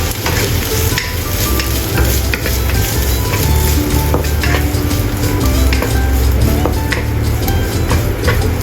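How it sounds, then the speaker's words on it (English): Onion stir-fried in a pan, a loud, close and continuous sizzle with steady scraping and stirring throughout, with no talking. "Stir fry onion until translucent and fragrant."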